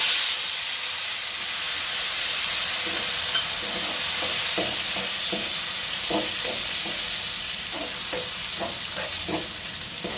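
Asafoetida and tomato gravy go into hot oil and set off a loud, steady sizzle and hiss, with a run of rhythmic stirring scrapes in the second half.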